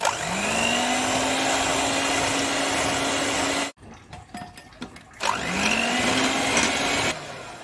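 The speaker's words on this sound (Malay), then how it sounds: "sekarang kita mix hingga jadi gebu" A steady electric mixer beating banana chiffon cake batter whirs loudly, cuts out briefly with some clatter, then starts up again with a rising motor whine.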